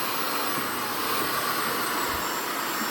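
A Bosch cordless vacuum cleaner runs on carpet in turbo mode, giving a steady, close, high-pitched whining roar with an airy rush and no pauses.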